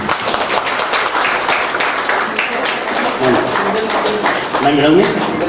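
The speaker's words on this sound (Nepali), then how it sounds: "ताली बजाइदिनु।" Clapping from the audience at a ministry school graduation ceremony, a crowd's hands patting fairly loudly while voices talk over it and a voice is heard near the end.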